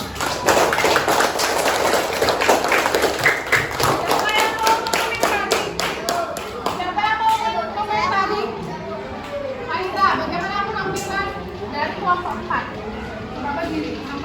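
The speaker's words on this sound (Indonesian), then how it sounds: "Tepuk tangan dulu buat kelompok 4." A classroom full of children claps fast and loudly for several seconds after a group presentation, then the clapping thins out as kids chatter and shout excitedly.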